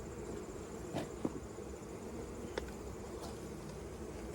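Honey bees in an open hive during an inspection make a faint, steady buzzing hum, with a few soft clicks and knocks scattered through it.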